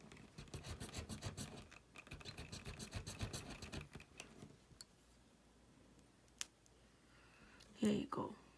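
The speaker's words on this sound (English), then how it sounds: "Just rock your knife back and forth and keep rotating the toothpick." A kitchen knife rocked back and forth against a rotating wooden toothpick, giving a run of quiet, rhythmic scraping ticks for several seconds, then a pause with a couple of sharp clicks as it snips through.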